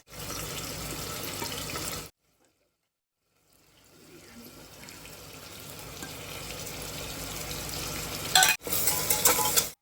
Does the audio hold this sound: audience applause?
no